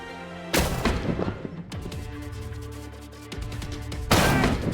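Gunfire in an MMO video game: a loud burst of game shots, a stretch of rapid firing and rumbling combat noise, then another heavy blast near the end, with no talking.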